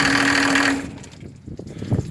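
A Mercedes OM603 turbo diesel driving a PN-40 motor pump runs loud and steady, then cuts off within a second and dies away into quiet. Faint handling noises follow.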